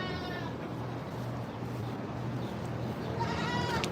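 Goats bleat on a small farm with chicks around, the faint wavering calls rising near the start and again at the end over a steady low background hum.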